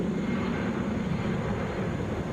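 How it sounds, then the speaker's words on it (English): A Delta Boeing 757 airliner on a runway at Atlanta airport gives a steady, loud, continuous jet engine roar with a deep rumbling low end, unbroken throughout and with no voices. "Delta Flight 1563 headed to Chicago O'Hare, Boeing 757."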